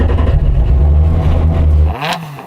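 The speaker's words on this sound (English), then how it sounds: "let's have a listen to your little 4-cylinder" Four-cylinder rallycross car engine revving hard at close range, a steady loud drone that cuts off abruptly near the end, followed by a brief rising whine.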